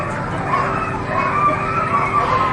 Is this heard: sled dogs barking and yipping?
yes